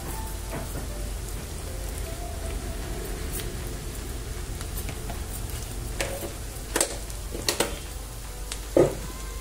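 Mutton sizzles and fries in a pan with chili powder and turmeric, a steady soft crackle with a few sharper pops and clinks of stirring toward the end, heard alone without talk.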